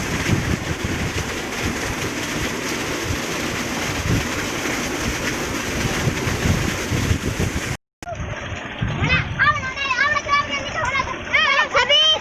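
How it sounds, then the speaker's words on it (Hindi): Water from a running tubewell pours into channels at a fish farm outdoors, a steady broadband rush with wind noise, then after a short gap a person talks over the continuing flow. "ये ट्यूबवेल जो है वो चल रही है और इसका जो पानी है वो ऐसे नालों में आ रहा"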